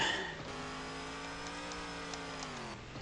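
Dune buggy engine in a driving game with the diff lock off, revving high and steady as the wheels spin out, a sustained whining drone that holds pitch for a few seconds, with no voices.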